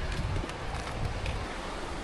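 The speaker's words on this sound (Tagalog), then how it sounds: "Sobrang mahangin sa umagang ito." Strong morning wind buffets the microphone on a farm, a steady loud roar and rumble with gusty low-frequency thumps throughout, no other distinct sounds.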